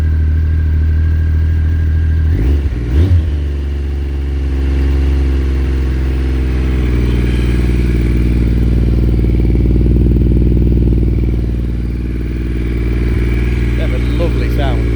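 A classic Triumph motorcycle, carburettors freshly cleaned and all fluids changed, starts easily and settles into a loud, steady, close-up idle with a deep throbbing rumble and a brief clatter at the start.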